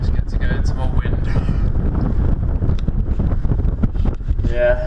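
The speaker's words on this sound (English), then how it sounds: "It's just blowing a gale down here" Strong gale roaring through a tunnel beneath a road, heavy continuous wind buffeting close on the microphone for the whole stretch, with a voice faintly audible underneath.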